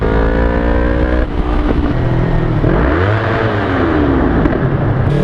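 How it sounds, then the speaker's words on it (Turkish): A motorcycle fitted with headers and running with no muffler revs hard, its loud, raw engine note rising and falling steadily throughout with no talk over it. "Gördüğünüz gibi dostlar egzoz susturucusuz haliyle bayağı bir alev attı."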